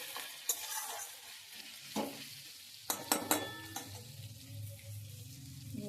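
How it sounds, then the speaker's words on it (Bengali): Onions sizzle softly in a pan while a spatula scrapes and taps to break them apart, with a few sharp metallic clinks midway and a low steady frying hiss underneath. "ওর জন্য খুন্তি দিয়ে আস্তে আস্তে করে ভেঙে দিচ্ছি। তাহলে পেঁয়াজটা তাড়াতাড়ি ভাজা হয়ে যাবে।"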